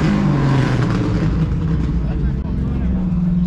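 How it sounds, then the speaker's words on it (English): A car revving hard while doing a burnout at a Cars and Coffee meet, a loud sustained engine roar with wavering pitch running throughout, with crowd noise and voices mixed underneath. "there's guys out there doing burnouts, ruining it for everybody"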